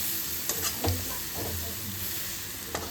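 A spicy mixture being stirred and fried in a pan, with a steady sizzle and a few scraping stirs against the metal, close and alone without talk.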